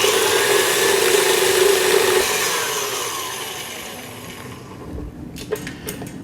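Electric stand mixer on slow speed beating fruit cake batter in a bowl, a steady motor whir with beater rattle that fades toward the end, followed by a few light clicks.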